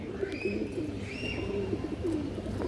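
Fancy pigeons in a loft give soft, repeated throaty coos at close range, gentle rolling calls over a low background hum.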